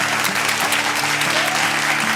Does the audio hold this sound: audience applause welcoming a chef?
yes